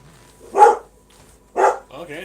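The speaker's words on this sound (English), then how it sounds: "Okay, now the dog wants to bark at somebody." A dog indoors barks twice in sharp, loud bursts about a second apart, with low household murmur between and after.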